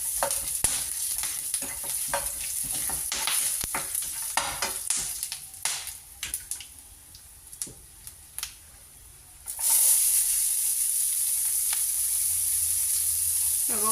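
Cumin and pulao spices fry in hot oil in a pan for a chicken tikka masala fry. Crackling sizzle and stirring clatter come first, then a loud, steady hiss for the last few seconds.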